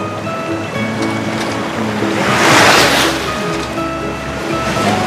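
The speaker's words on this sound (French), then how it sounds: "Capitaine Chien, première vague face à nous." Ocean waves wash steadily with a surge swelling in the middle, a constant watery rush with faint tonal music underneath.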